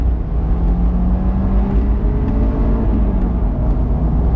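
A 15-year-old Honda S2000 pulls hard in second gear, its engine note climbing steadily and loudly from inside the cabin with no talk over it.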